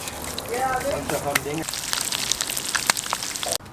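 Crab cakes browning in a frying pan crackle and sizzle steadily up close, with sharp pops scattered through and a voice talking over the start.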